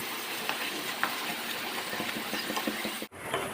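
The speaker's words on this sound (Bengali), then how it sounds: "এগুলো সব এবার একসাথে ভালো করে কষিয়ে নেব।" Spices with turmeric and Kashmiri chili powder are stirred and fried in oil for a prawn and potato curry, giving a continuous soft sizzle with light scraping and stirring. One brief dropout occurs near the end.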